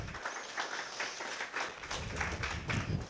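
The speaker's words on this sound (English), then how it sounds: "And we applaud her." Audience applause, a steady wash of many hands clapping at a moderate distance, continuous and fairly even for a few seconds.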